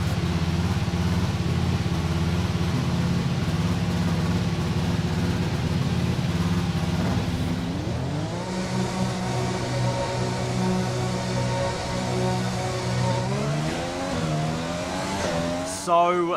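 An F1 car in the racing game F1 2020 screams around the track, its engine pitch climbing through repeated upshifts in steady, loud sweeps, with a voice talking over it.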